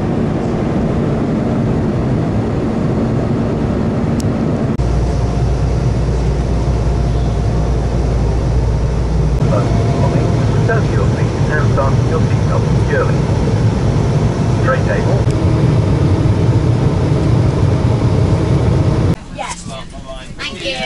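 Cabin of an Aurigny passenger aircraft on a red-eye flight from Guernsey to Gatwick: a loud, constant engine drone and rumble, with a voice talking over it for long stretches.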